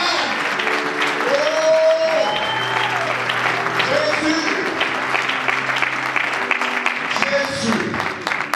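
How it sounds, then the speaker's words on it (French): Church congregation cheering and clapping during worship, a continuous crowd roar with voices calling out and sustained tones mixed in, loud and close throughout. "N'est-ce pas, il mérite nos acclamations, mes bien-aimés? Acclamons-les quand même."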